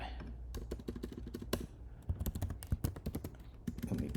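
Rapid clicking of computer keyboard keys while code is typed, irregular bursts of keystrokes with brief pauses, close and fairly loud, with a voice talking partly over it.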